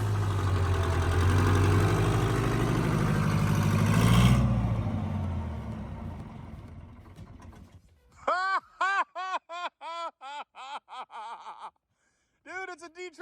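A repowered Detroit diesel engine in a bus rumbles steadily and loud, then fades, after which a tonal whining pulse repeats in a quick series of rising chirps with short pauses.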